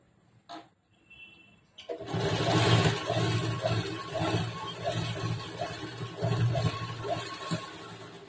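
A sewing machine stitches the fabric of a blouse. After a brief click and pause, it whirs up into a loud, steady run with a rapid rhythmic needle pulse that surges and eases, close by and alone.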